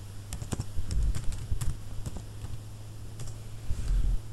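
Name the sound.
typing Django command on computer keyboard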